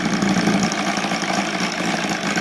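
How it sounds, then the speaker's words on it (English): An OS Sirius 7 FR7-420 seven-cylinder radial model engine, converted to gasoline with CH Ignitions CDI, idles steadily and loudly nearby with a dense, even rumble and slight roughness throughout. "Just let it to idle a little bit"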